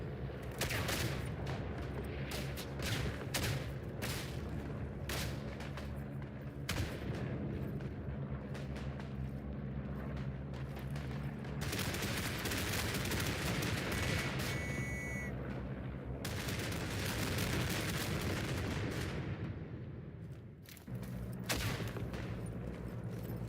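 Artillery fire in the World War I shooter Isonzo: dense, continuous rumbling barrage of booms and blasts with scattered gunfire, steady and loud throughout.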